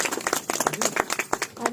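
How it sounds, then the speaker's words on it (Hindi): Audience clapping at a women's business meeting in India, a short burst of brisk hand claps from a modest crowd, fairly close and even throughout. "एक बार जोरदार तालियां हो जाए।"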